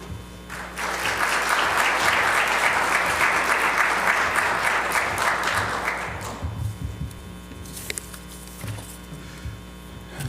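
An audience in a school district hall claps to welcome superintendent Dr. Larry Huff. Steady, dense applause rises quickly, holds for about five seconds, then fades into scattered claps and room noise.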